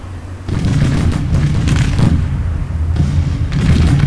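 Civil War artillery booms in a strategy battle game, several heavy blasts rolling together into a dense, continuous low rumble with distinct surges, loud and unbroken by speech.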